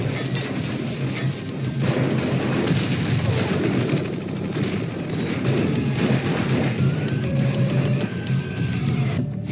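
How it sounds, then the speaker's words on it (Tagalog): Gunfire erupts in a chaotic action-movie shootout inside a house, dense crashing shots and impacts layered over a busy music and effects mix, with clip-clop-like rattling, sustained and loud throughout. "sinimulang barilin ni Heta ang lahat ng hindi pumanig sa kanya"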